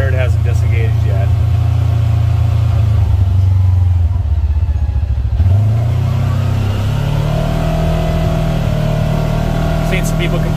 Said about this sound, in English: Seen some people complaining about the engine braking on these, and yeah, it's not the best.